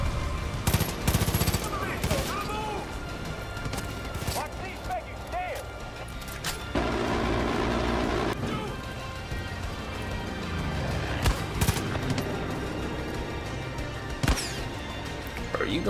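Bursts of automatic gunfire and single shots in a Far Cry 5 firefight, rattling loud and close with dense busy action throughout, while voices talk over the shooting.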